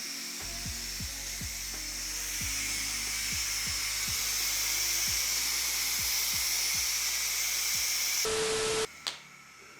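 A pressure cooker's steam vent hisses loudly and steadily for about eight seconds, with a string of short ticking clicks underneath, then the release cuts out abruptly and a brief clatter follows.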